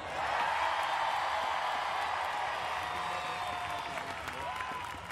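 Sustained applause and cheering rise from a packed arena crowd at a Paralympic wheelchair basketball game, Poland against Germany, in London in 2012. The roar stays dense and loud throughout, with scattered shouts mixed in.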